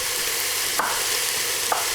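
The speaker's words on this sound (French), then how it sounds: "On vient verser les morceaux d'agneau, on va les faire revenir pendant 5 minutes" Pieces of lamb browning in a casserole pot, a steady, even sizzle of frying meat with two faint clinks of a utensil, no voices.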